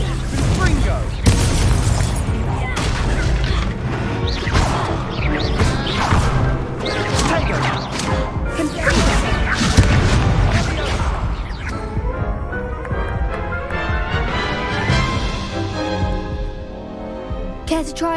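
Confringo fire-blast spell from the Hogwarts Legacy video game, heard as repeated loud booming bursts and crashes over a dense, continuous game soundscape with music, while a character speaks.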